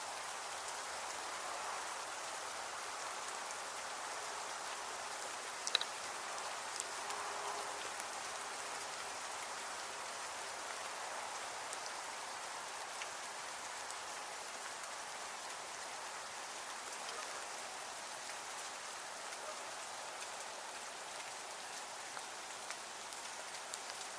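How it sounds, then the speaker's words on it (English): Rain falls outdoors in a steady, soft hiss of drops on surfaces, even and continuous for the whole stretch, with a single brief knock early on. "the rain is still falling"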